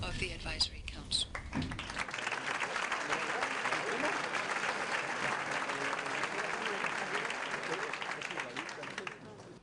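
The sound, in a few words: thunderous applause for the Vice President of Gambia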